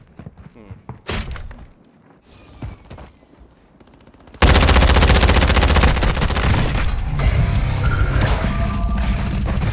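Video game gunfire: sparse scattered shots and thumps at first, then a sudden loud sustained barrage of rapid automatic fire and explosions dominating the rest.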